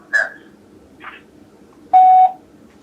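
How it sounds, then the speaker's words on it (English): Voicemail tone on a phone call, a single steady electronic beep near the end, preceded by short bleeps and faint phone-line noise. "You have reached the voicemail box of Todd."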